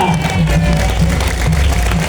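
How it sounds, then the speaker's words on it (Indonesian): An audience applauds a clever performing animal named Faya, a brief burst of clapping and cheers mixed with a host's voice over a low hum, loud and close. "Kembali tepuk tangan meriah buat Faya."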